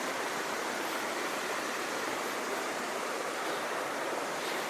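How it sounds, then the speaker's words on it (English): Kinman Creek flows in the rain near a logging railway bridge at Englewood, producing a continuous, even hiss and rush of water that stays steady and unbroken, with no one speaking. "That would be Kinman Creek."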